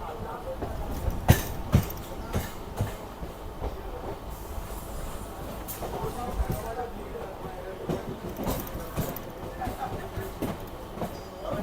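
A Kolkata circular rail train pulls into Ballygunge Junction, its steady rolling rumble broken by sharp wheel clacks and rattles from the carriages, with background voices in the coach.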